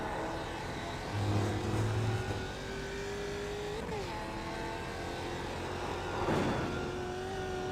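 American-made V8 race car engine in the iRacing video game, a steady moderate drone with a gear shift near the middle and a brief surge later on, heard alone with no talk.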